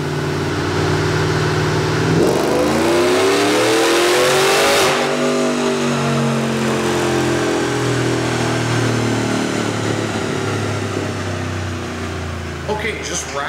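A 800-horsepower Yenko Silverado truck revs on a dyno. The engine climbs to a loud roaring pull, drops back, and then idles and burbles with a falling pitch while a voice speaks over it.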